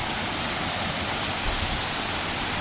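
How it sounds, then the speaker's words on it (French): Waterfall on Koh Samui heard from the top, a dense loud continuous rush of falling water, steady and close with nothing else over it. "Là, on est en haut de la cascade"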